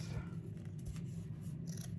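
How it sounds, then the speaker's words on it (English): Faint, soft snips of dull scissors cutting through fabric, a few quick cuts close by in a quiet room. "I really need to sharpen my scissors."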